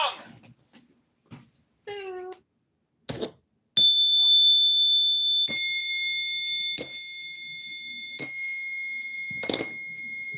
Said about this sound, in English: Ring the gong.